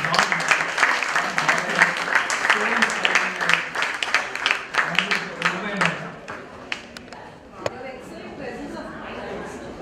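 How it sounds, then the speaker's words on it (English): Audience applause at a plenary conversation session of an India's Future Tycoons event: dense, steady clapping from a crowd that thins toward the end, with a voice talking underneath. "a big round of applause for this"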